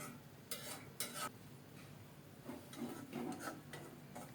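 Rohu fish is flipped in a covered pan: quiet scraping and light metallic clinks from a utensil over a faint background sizzle, heard close and soft.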